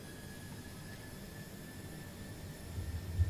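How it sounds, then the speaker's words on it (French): Simulated Airbus A330-300 cabin during a takeoff run at full thrust in Microsoft Flight Simulator 2020, a steady, muffled jet-engine roar with a faint high whine that swells slightly toward the end. "Voilà pour les sons intérieurs des moteurs en toga."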